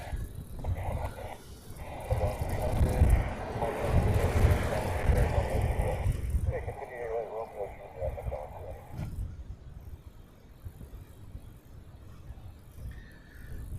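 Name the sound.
Delta Boeing 767 landing on crossing runway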